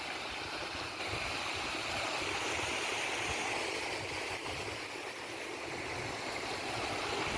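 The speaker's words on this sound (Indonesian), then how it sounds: "sungainya jadi mengalirnya ke arah sini" A river stream flowing near a hamlet among clove plantations, a soft, steady rushing and gurgling of water that continues evenly at moderate distance with no voices.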